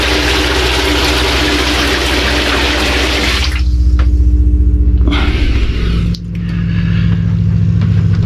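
Water from a Truma Combi boiler runs into a shower, a loud steady spray that shifts to a lower rushing flow partway through, with a brief interruption near the end and a pump-like hum beneath.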